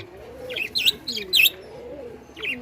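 Budgerigars chirping in short bright bursts, a few quick warbling calls close by with pauses between them, over a low cooing and steady background murmur.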